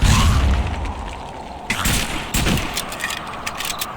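Grenade blast in a VR shooter game: a loud booming burst at the start fades out, then sharp scattered impacts and bursts of gunfire crackle through the rest, with no talking.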